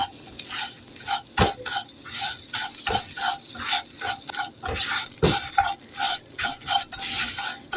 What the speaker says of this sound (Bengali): সিমাইগুলি ভালো করে আমি এর সঙ্গে একটু ভাজিয়ে নিব হালকা